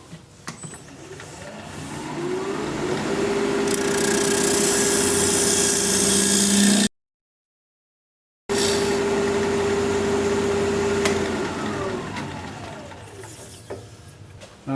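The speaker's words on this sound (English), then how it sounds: "We'll use a 1/2 inch standard grind bowl gouge" A wood lathe spins a live-edge hawthorn bowl while a 1/2 inch standard grind bowl gouge cuts it, giving a steady loud whirring hum with a scraping cutting texture, broken by a short silent pause partway through.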